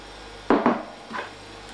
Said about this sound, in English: Let's put our onions in.